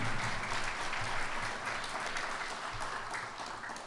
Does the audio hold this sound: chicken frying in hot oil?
no